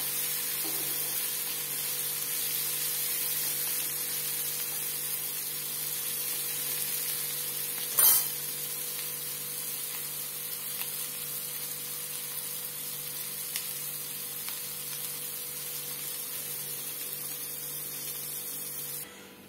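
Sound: prawns frying in a pan

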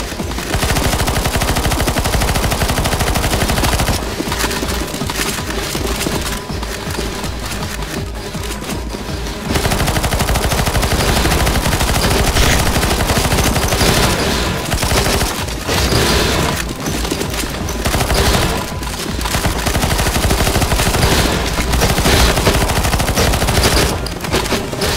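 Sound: gunfire in video game CS:GO Zombies

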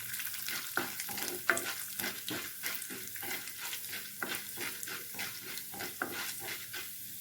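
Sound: toor dal and chana dal frying and stirring in oil

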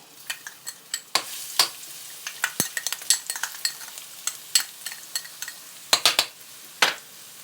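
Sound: minced garlic frying in hot vegetable oil in a pan

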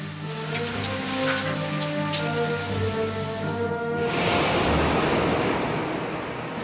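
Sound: submarine Barbarigo crash-diving, sea water rushing

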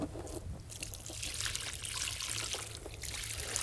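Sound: pouring water onto planted vine

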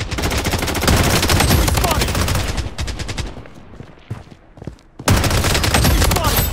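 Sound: gunfire in the video game BloodStrike

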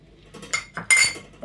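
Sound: vegetables put into a clay cooking pot

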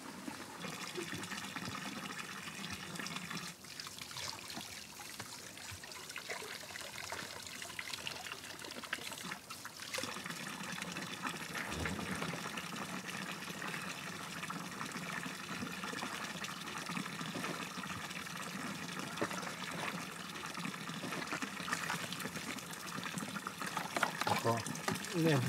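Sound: running water trickling

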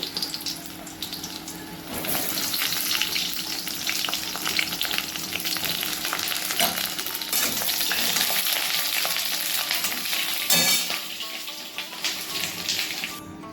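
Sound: eggplant frying in hot oil

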